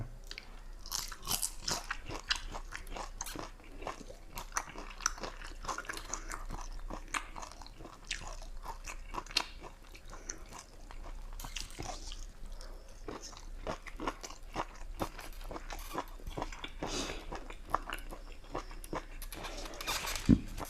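Someone eats crispy fried mackerel with loud, close, continuous crunching and chewing, the steady crackly bites running throughout with no talking.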